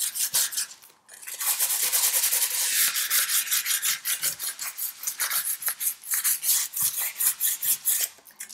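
Rough, rhythmic sanding strokes rasp against a chalk-painted glass bottle, steady back-and-forth scrubbing with no voices.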